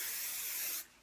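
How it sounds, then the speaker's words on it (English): A spray bottle misting hair during braiding gives one sustained hissing spritz up close, cutting off sharply near the end, with no voices. "just with my spray, I'm going to start to just clean that up just a little bit through here"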